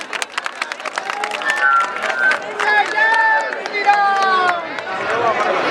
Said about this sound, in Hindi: आप सबसे आग्रह करते हैं जोरदार तालियों से बहन जी का स्वागत करें